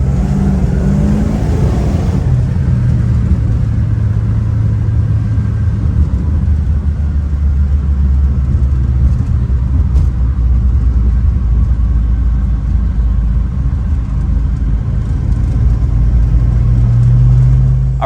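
A 1970 Plymouth Road Runner with a 440 Six Pack V8 and 4.10 gearing roars loud and close during a drive, a sustained deep engine rumble that climbs and holds.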